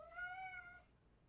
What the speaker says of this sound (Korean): 고양이가 야옹야옹 하죠.